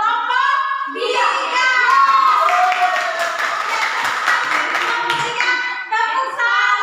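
Students in a classroom perform a rhythmic clapping routine mixed with chanting voices, the claps patterned and moderately loud, with children's voices heard before and after.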